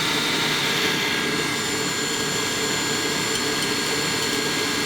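A stand mixer whips meringue at a slightly lowered speed, giving a constant loud whirring hum with steady high whine, unbroken and without any voices.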